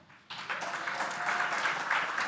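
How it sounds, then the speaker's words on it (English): An audience applauds at a tech event finale, a steady mass of clapping that starts abruptly and holds at an even, fairly loud level without voices. "Please give yourselves a round of applause."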